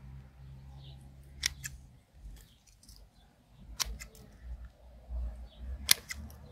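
Scissors snip through lavender stems during flowering-season pruning, three sharp isolated cuts spaced a couple of seconds apart, close and crisp against a quiet outdoor background.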